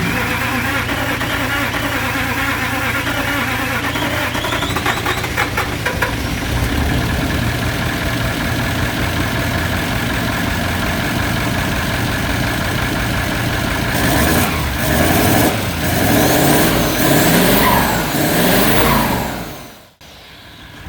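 A Toyota 1VD diesel engine swapped into a 60-series 4x4 runs at a steady, loud idle up close after its first start, with a rougher stretch near the end before cutting off abruptly; voices are heard briefly.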